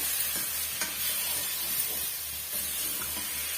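Brinjal and field beans sautéing in a pan for a village-style mochai kulambu, a steady close sizzle with intermittent stirring scrapes, no talking.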